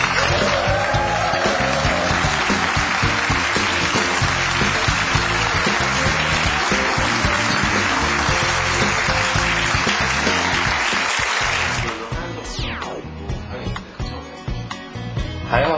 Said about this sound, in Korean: 뜨거운 박수로 황보영 대표이사님을 모시도록 하겠습니다